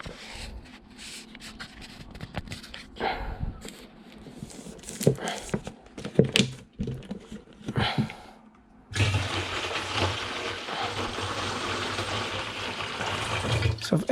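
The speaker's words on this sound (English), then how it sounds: "So I've emptied all my water in there." Water poured from a bottle with a tap into a container while making a simple London honey mead, a steady close liquid rush that fills the last five seconds after quieter handling noises.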